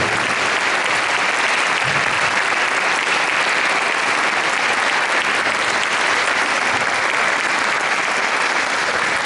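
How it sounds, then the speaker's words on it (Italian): An audience at an outdoor concert gives a dense, sustained round of applause for the Città di Paceco municipal music band. The clapping stays loud and even throughout. "Faccio un applauso ai ragazzi della banda musicale Città di Paceco."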